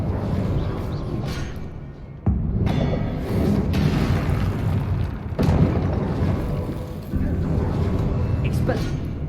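Repeated fiery blasts from the Confringo spell in the video game Hogwarts Legacy, loud booming bursts roughly every few seconds over a dense background of game noise and voices.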